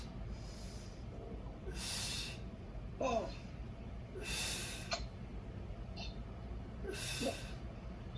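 Breathing during a Pilates exercise at home: several audible breaths in and forceful exhales come in a slow, regular rhythm, fairly faint over a low background hum.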